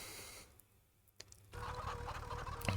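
Chickens clucking and squawking at moderate volume, a thin, quiet stretch giving way to a steady, busier flock sound over the second half.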